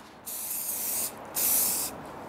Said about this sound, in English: What I'm going to do is spray it again.